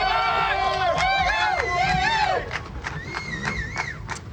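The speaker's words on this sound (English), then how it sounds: "a big crowd ready to salute the third place finisher" A crowd at a motocross race cheers and whoops for the third-place finisher, with loud shouts and yells rising over a busy outdoor hubbub and an announcer talking over the noise.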